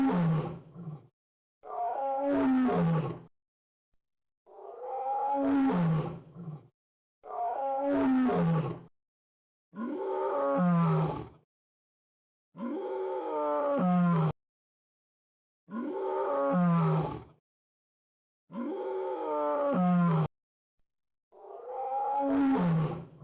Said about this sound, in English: Lion, baby of lion,